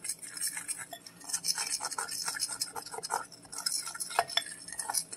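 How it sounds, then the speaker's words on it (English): Cornbread muffin mix batter being stirred with a utensil in a bowl, producing steady scraping and light clinking strokes in a continuous rhythm, close and fairly quiet, with no talking. "Mix the cornbread muffin mix"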